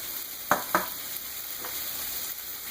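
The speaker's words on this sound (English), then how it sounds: "So now I'll start frying with the lid off." Potatoes, onions and smoked kielbasa sausage sizzle in an uncovered pan with a steady frying hiss, broken by a couple of quick clattering knocks from stirring.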